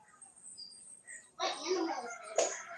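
Faint high chirps and tweets from birds outdoors among palms, with roosters around, a brief burst of louder sound midway and a quiet background.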